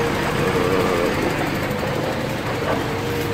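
A Daewoo machine working on a building demolition drones with a loud, steady engine hum, a continuous near rumble without breaks.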